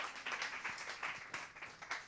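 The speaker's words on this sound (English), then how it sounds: "A great applause to Hermes." An audience at a film-scoring presentation applauds a composer, with brief, steady clapping from many hands at moderate distance.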